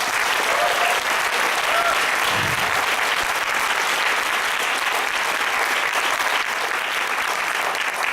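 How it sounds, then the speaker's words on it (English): A large audience at a Y-Talk event breaks into a round of applause, steady and full throughout, with faint voices mixed in. "Please give them a round of applause."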